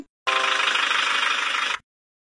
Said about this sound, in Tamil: இங்க பாருங்க நான் எப்படி இந்த டிராக்டரை ஓட்டுறேன்னு